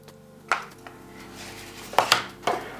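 Sweet corn sprinkled into a burrito bowl, heard as a few close, sharp clinks and taps of utensil and kernels against the dish, spaced irregularly with quiet gaps and no talking.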